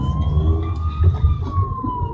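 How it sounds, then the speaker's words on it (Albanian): An ambulance siren wails continuously, its steady tone gliding slowly in pitch, over a rumble of road traffic and wind. "ambulancë."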